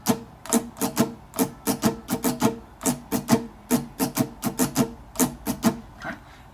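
Acoustic guitar strummed in an up-up-down-down-up pattern, a steady rhythmic run of bright, close strokes, played alone with no talking.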